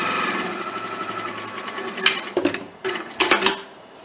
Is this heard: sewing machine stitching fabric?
yes